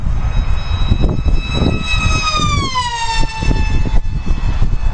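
A jet aircraft passes overhead beside an outdoor drag strip, a loud continuous roar with whining tones that slide downward as it goes by, filling the whole moment with no talk.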